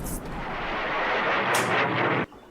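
An artillery shell blast in a WWII strategy game, a sustained loud rumbling roar with a brighter crack partway through, cutting off abruptly near the end.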